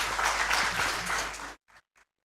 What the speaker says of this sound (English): Good round of applause to you guys